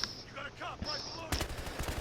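An AKS-74U carbine fires a short, rapid burst in the video game Battlefield Hardline, close and loud over a busy game background with whistling and crackling effects.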